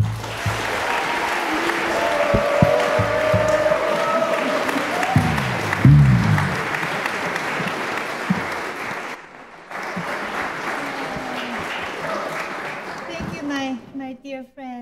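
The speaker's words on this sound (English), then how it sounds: "clap your hands for Professor Lisa Sung and the Calvin University Jazz" A concert audience applauds a university jazz band and its director, a long sustained wash of crowd clapping with voices mixed in, easing slightly toward the end.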